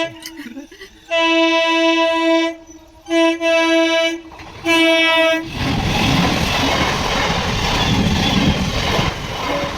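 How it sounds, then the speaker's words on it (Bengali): A train on a line near Bardhaman sounds long horn blasts in three bursts over the first half, then rolls past loud and close with a steady rumbling roar of wagons. "দিকে ট্রেন আসছে"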